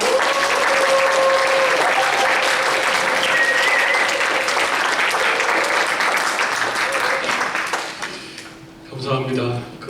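A church congregation at a Sunday youth worship service applauds, dense sustained clapping from many hands filling the room, fading out near the end as a voice begins.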